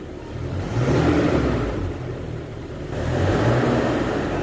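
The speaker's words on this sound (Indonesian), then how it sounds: "coba digas enteng langsung" A Toyota Innova engine fitted with an IForce Ultimate module is revved lightly, two gentle swells of mid-low engine rumble rising and easing back. The sound is close and steady, with no speech over it.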